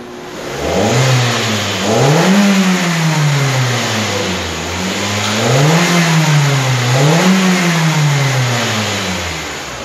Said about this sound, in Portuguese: Eu vou dar uma acelerada lá e soltar para você perceber essa variação.